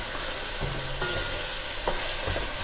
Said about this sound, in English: just give it a good stir so all the spice blends with the meat and the olive oil